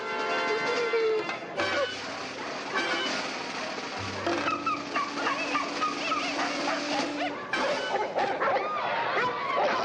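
Several dogs bark and yip at an obedience dog show, a loud, busy overlapping chorus with whimpers, continuing for about ten seconds.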